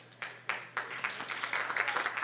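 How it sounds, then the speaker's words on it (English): Applause from the audience at a town meeting on a proposed casino and integrated resort, scattered claps starting sparse and quickly thickening into steady clapping, fairly faint in a large room. "And I thank you for the applause"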